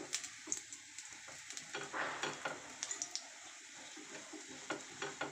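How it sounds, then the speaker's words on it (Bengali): Paratha deep-frying in hot oil, a steady crackling sizzle with scattered pops and a few soft clinks of utensils against the pan, close and fairly quiet throughout. "আমি ঠিক সেইভাবে ডুবো তেলে এটিকে ভেজে নেব"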